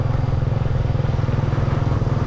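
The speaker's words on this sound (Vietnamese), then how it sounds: "đi xe máy thôi" A motorbike ridden along a road: a close, steady engine drone with an even throbbing pulse that holds throughout, with no voices.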